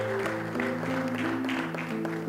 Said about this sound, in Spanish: Vamos a darle un aplauso de recibimiento y a darle ánimo y fuerza.